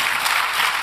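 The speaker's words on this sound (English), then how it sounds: "Let's give our panel a round of applause." Conference audience applauding a panel at the end of a cancer conference session, a brief, dense burst of clapping from a crowd.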